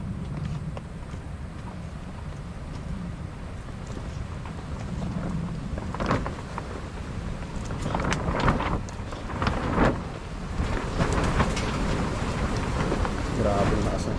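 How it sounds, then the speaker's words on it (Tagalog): Strong wind buffets an outdoor spot where arroz caldo with beef skin is being cooked, a steady loud rush with microphone rumble and gusts swelling in the middle, while people talk over it. "Grabe lakas ng hangin."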